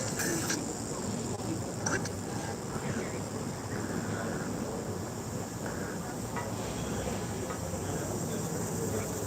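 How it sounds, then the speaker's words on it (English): Loud cicadas buzzing outdoors, a dense continuous high-pitched drone filling the whole stretch, with faint distant background noise beneath. "The cicadas are loud."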